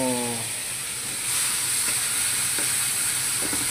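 Food sizzles and crackles steadily in a hot pan while burning, a close continuous frying hiss with small pops.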